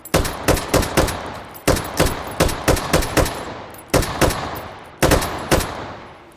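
Gunshots in the VR game H3VR, loud close reports fired in quick clusters of three to five with short pauses between bursts, each shot ringing briefly, with no talking.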